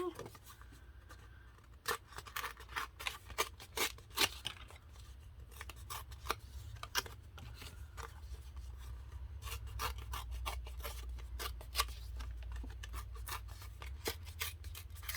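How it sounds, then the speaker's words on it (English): Orange craft paper is torn by hand for a paper-crafting project, giving a string of close, crisp ripping and crackling bursts over a low background hum. "let's go ahead and tear some of the orange"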